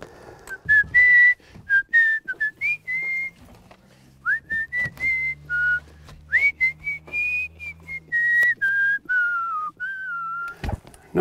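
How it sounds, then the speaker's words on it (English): A person whistles a wandering melody in short phrases and sustained notes, close and clear, inside a workshop being built for DIY projects, with a low hum beneath. "No whistling, please."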